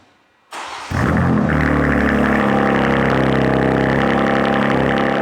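A BMW G87 M2 with a Fi Exhaust system, valves fully open, fires up from cold: brief quiet, then a loud sudden catch and a steady, deep, booming high idle that fills the rest of the clip, close up.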